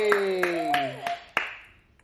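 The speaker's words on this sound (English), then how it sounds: "Clapping." A few isolated sharp claps, about five spaced irregularly, ring out over a toy's chiming musical tones as a baby plays with a hen-laying-eggs musical toy, fairly close and moderately loud.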